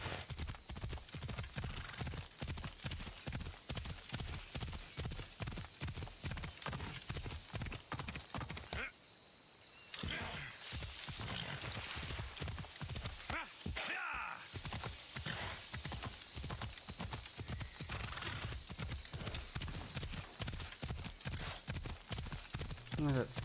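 Horse hooves clip-clop in a steady, even walking rhythm throughout, close and prominent, in the Assassin's Creed Odyssey video game, with a brief pause midway and faint whinny-like sounds; someone talks over it at times.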